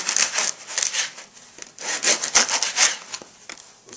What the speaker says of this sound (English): We're cutting nice slices about 1 inch thick.